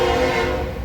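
A passing train sounds its horn nearby, a loud, steady, sustained blare over the rumble of rail cars, cut short in under a second.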